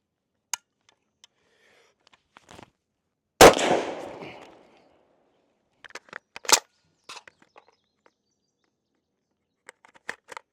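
A Zastava M92 rifle fires a single loud shot with a short echoing tail, followed by scattered metallic clicks and handling noises, and another sharp report a few seconds later.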